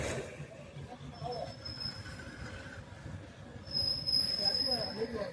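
A train arrives at Gadag railway station with sustained high-pitched wheel squeals that grow louder toward the end, over rumbling station noise and faint voices.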